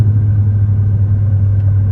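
A Volvo with a manual transmission drives slowly under light throttle, a steady low engine rumble heard loud and close from inside the cabin with no voices.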